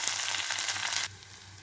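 Curry leaves, mint and ginger-garlic paste fry in a chicken gravy pan with a steady, close hiss of loud sizzling that drops suddenly to a quieter crackle partway through; no one speaks.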